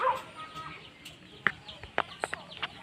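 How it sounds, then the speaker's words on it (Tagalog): Birds calling outdoors, a few short chirps and clucking notes scattered over a quiet background, with one brief call at the start and a cluster of sharper calls near the end. "kung nakikita nyo mga ibon na yun"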